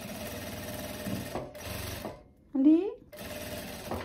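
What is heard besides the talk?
sewing machine stitching end of viscose-lycra belt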